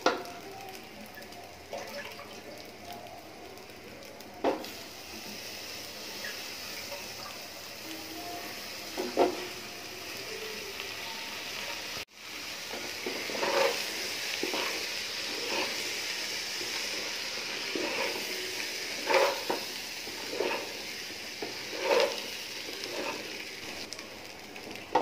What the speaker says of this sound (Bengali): এখন আমি সবজি দিয়ে দিব।